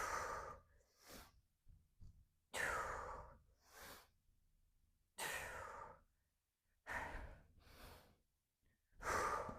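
Heavy breathing during a full-body workout chest press, in a series of loud, breathy inhales and exhales coming in irregular bursts with short silent pauses between them.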